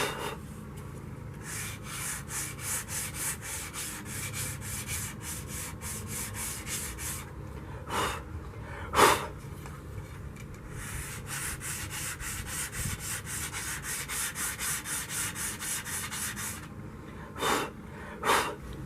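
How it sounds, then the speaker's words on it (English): Very fine sandpaper rubs back and forth over a carved wooden sword in close, steady strokes, with a few louder breaths or puffs at times and no talking. "It's a very fine sandpaper."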